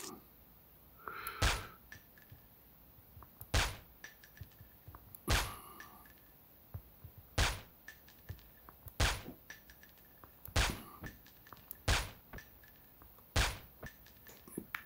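Gunfire in a Call of Duty Mobile battle royale match: about ten sharp, evenly spaced single shots, each a loud crack with a short tail, over faint background game noise and no talking.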